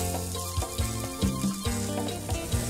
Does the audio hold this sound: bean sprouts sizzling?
yes